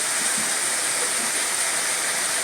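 Chopped vegetables steam in a pan with a little water, giving a steady, close, continuous hiss with no talking.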